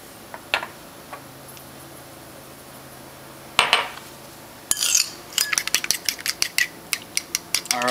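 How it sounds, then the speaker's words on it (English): A fork whisks eggs with sour cream in a bowl for a garden omelette, heard as a run of quick, close metallic ticks and clinks against the dish, sparse at first and then a rapid steady beating, with no talking. "whisk the eggs with a fork"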